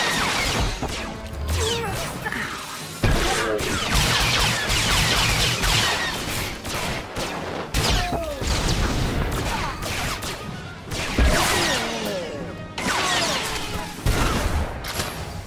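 Blaster gunfire in the video game Star Wars: The Old Republic, rapid volleys of sharp shots and crashing impacts in repeated loud bursts with brief pauses between them.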